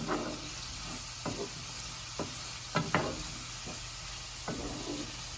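Boneless chicken being mixed by hand with fenugreek, garlic and ginger for a chicken pickle, giving a few sporadic wet scrapes and soft clicks spaced over a quiet background hiss.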